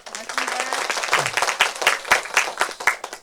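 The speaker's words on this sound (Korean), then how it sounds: "어디 가서 이렇게 큰 박수 받기 힘듭니다" An audience of parents at a school information session applauds the introduced principal, a lively round of many hands clapping with distinct crisp slaps, fairly close and steady throughout.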